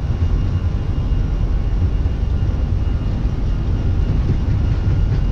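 Airbus A320 engines at takeoff thrust, a loud, steady, broadband roar with heavy low rumble that stays constant throughout, heard from inside the aircraft.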